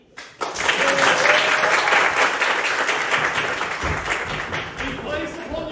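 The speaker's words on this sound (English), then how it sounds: "The audience applauds vocaciously." Sustained applause from a theatre audience at a live musical comedy show at the Waterloo East Theatre, loud and dense throughout, with crowd murmur mixed in.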